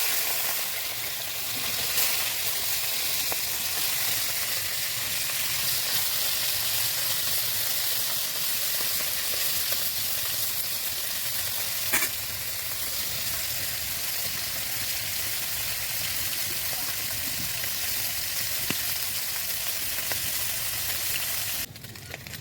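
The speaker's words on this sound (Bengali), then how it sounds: "দেখুন তেল গরম হয়েছে, এবার মাছগুলো আমি দিয়ে দেবো।" Small tangra fish fry in hot oil with a steady, continuous sizzle and hiss that holds evenly throughout, with no talking.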